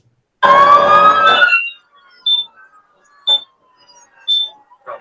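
A loud fire truck siren wail sweeps for about a second, then gives way to a few short, sharp beeps spaced apart.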